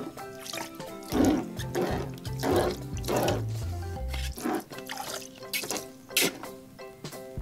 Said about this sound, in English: Let's have Donald Duck shoot some water out